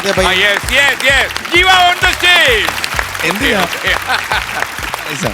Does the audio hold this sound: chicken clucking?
no